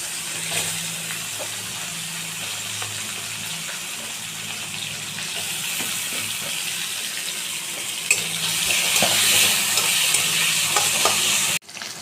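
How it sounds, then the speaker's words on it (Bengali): Small diced potatoes frying in oil with green chillies for muri ghonto, a loud continuous sizzle broken by scraping stirs and light clinks, swelling louder near the end before cutting off abruptly. "তারপরে দিয়ে দেবো ছোটো ছোটো করে কেটে রাখা আলুগুলো দিয়ে কিছুক্ষণ নাড়াচাড়া করে নেব।"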